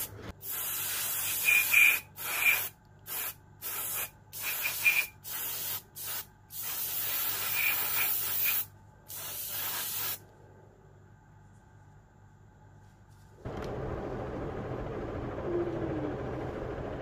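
Pledge Floor Care sprayed from a can onto vinyl rubber tyres of a scale model wheel, a string of close, loud hissing bursts of varying length, then quiet, followed by softer rustling handling.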